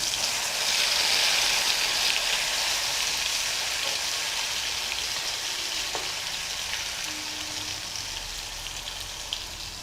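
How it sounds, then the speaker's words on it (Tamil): Raw banana slices frying in hot oil for a Tamil vazhakkai varuval, a steady, dense sizzle close by that holds evenly throughout with faint clinks, no voices. "இதே மாதிரி நம்ம மிக்ஸ் பண்ணி வச்சுருக்க வாழைக்காய் எல்லாமே போட்டு பொரித்து எடுத்துடலாம்."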